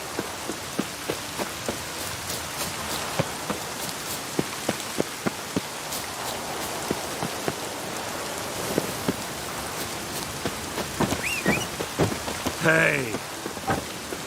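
Steady rain pattering on a surface, with scattered sharper drops and a brief voice calling out near the end; any thunder stays faint and low beneath the rain.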